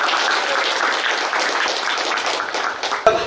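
An audience applauds medalists of a Greco-Roman wrestling competition, a dense, steady burst of many hands clapping that holds evenly for about three seconds before a sharp tap near the end.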